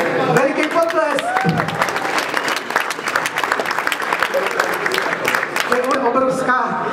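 Loud, dense audience applause fills a live Czech television show as a young football talent is welcomed onstage, steady clapping with a few cheers throughout.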